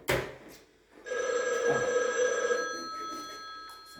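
A telephone rings with a bright electronic trill that starts after a short thump and holds steady for a few seconds before fading. A faint voice is briefly heard at the start.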